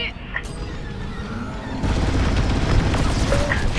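Blaster fire and explosions in the Star Wars Squadrons space combat game give dense, booming rumbles and crackling bursts over a constant engine roar. The loudness jumps midway, with scattered zaps and beeps from the game.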